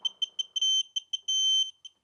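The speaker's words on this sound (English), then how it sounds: "Beep." A string of sharp, high electronic beeps sounds while an injection pump is reinstalled on an ALH TDI diesel engine, short chirps in a quick rhythm broken by two longer sustained tones, loud and isolated against silence.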